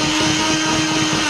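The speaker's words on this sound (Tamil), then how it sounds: "நான் அந்த ஸ்பவுட் வழியாக ஊற்றிட்டே அரைக்க போகிறேன்" A blender grinds garlic for toum sauce with a loud, steady, close whir while oil is poured in through the lid spout.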